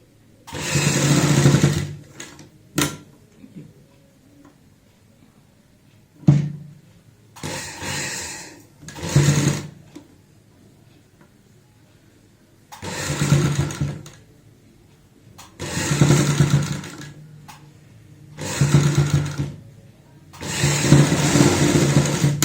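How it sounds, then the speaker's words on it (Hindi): A sewing machine stitches the neckline of a kurti in repeated bursts of steady, close whirring, each a few seconds long, separated by short pauses and soft handling sounds. "तो यहाँ से यहाँ तक हम सिलाई लगा लेते हैं।"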